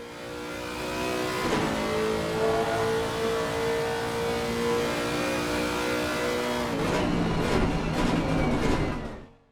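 A Lexus RC F race car with a 5.4 litre engine revs hard in Assetto Corsa Competizione, a loud, continuous rising engine note that shifts gears twice and holds a steady drone, close and alone.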